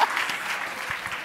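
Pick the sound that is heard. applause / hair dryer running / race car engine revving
applause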